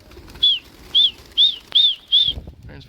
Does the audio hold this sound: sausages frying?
no